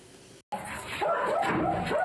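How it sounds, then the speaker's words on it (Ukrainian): A dog rescued from shelling in Nikopol, now at a shelter, gives excited yipping barks and whimpers close by, with a brief gap early on, then steady vocalizing mixed with background talk. "Наразі пес у притулку."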